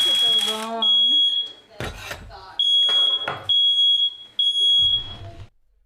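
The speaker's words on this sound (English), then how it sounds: "the fire alarm." A smoke alarm set off by a burnt bagel blares in loud, piercing electronic beeps that come in repeated bursts, interrupted and partly covered by a person talking and exclaiming nearby.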